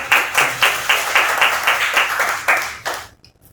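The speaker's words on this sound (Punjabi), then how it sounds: "ਪਹਿਲਾਂ ਤਾੜੀਆਂ ਮਾਰ ਕੇ ਸਵਾਗਤ ਕਰਨਾ" An audience at an event about the Battle of Aliwal claps in welcome for arriving guests, a loud nearby burst of rhythmic clapping in regular beats that stops abruptly after about three seconds.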